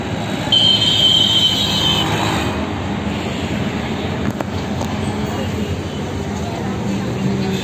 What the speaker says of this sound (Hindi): ये मेरे पीछे मेट्रो जा रही है, आप देख सकते हो